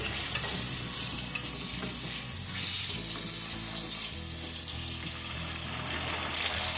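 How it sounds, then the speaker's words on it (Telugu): Tomatoes cook in oil over a high flame, a steady dense sizzle and frying hiss with occasional stirring clatter, close and continuous, no voices. "ఇదే ఆయిల్లో ఈ టమాటో పండు ఉడికిస్తున్నాం ఫ్లేమ్ పెంచుకున్నాం"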